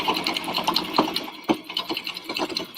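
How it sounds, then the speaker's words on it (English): Close and steady, a sewing machine stitches back and forth across the folded top of a denim bag, its rapid needle chatter running through the whole clip with a few small knocks and no speech. "you're going to want to stitch back and forth like 4 times because this is the top of your bag"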